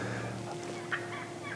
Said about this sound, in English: turkeys all around us calling.